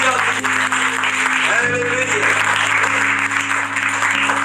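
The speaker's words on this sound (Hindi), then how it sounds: "ताली बजाकर जोर से बजाओ, सभी" An audience claps loudly at a Hindi-language Christian church service, continuous dense clapping over a steady low hum, with voices partly audible beneath it.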